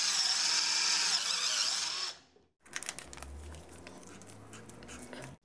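A 12V cordless drill with a sharp 3/8 bit whines loudly and steadily for about two seconds, cuts out abruptly, then a lower, rougher running hum with clatter follows.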